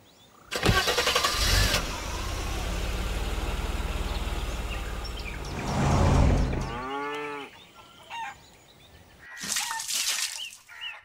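A car engine cranks and catches, then runs at a steady idle for several seconds before a rising, cow-like lowing call and another burst of engine noise near the end.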